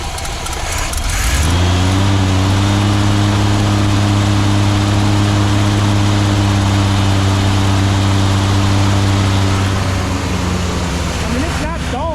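An old car engine, parked nearly 20 years, starts with a quick crank and settles into a steady, loud, rough idle that runs evenly for several seconds before a brief change near the end.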